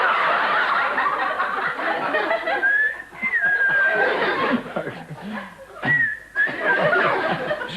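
A voice imitates whistling with a couple of short rising whistles amid laughter and chatter from a crowd.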